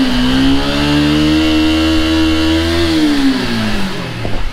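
A Yamaha Y15ZR motorcycle with a newly installed ECU revs hard, its engine droning loud and close with a steady rising pitch before easing off near the end.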